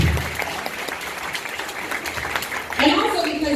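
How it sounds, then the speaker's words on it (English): A fashion show audience in Houston applauds, a steady patter of clapping that swells louder near the end. A voice speaks over part of it. "So give them another round of applause."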